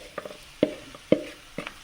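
Marinated prawns frying with onion masala in a pan, a low sizzle broken by several sharp scraping stirs spaced through the moment, close and fairly clear.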